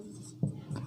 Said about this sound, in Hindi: यहाँ पर मैं लिख देता हूँ